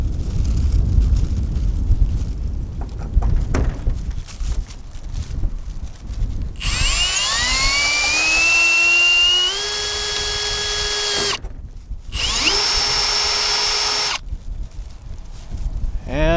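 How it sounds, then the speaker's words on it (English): A power drill bores a hole through a car roof cargo box, starting after some handling noise with a loud whining drive that rises in pitch, pauses briefly, then whines again before stopping. "I'm gonna drill a hole through the cargo box."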